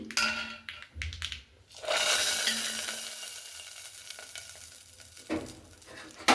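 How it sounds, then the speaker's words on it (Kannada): Hot tempering poured into spinach and fenugreek sambar sets off a loud, steady sizzle that starts abruptly after a few quiet clinks and keeps hissing close by until the end. "ಒಗ್ಗರಣೆ ರೆಡಿಯಾಗಿದೆ ಇವಾಗ ನಾನು ಸಾಂಬಾರಿಗೆ ಸೇರಿಸ್ಕೊಳ್ತೀನಿ"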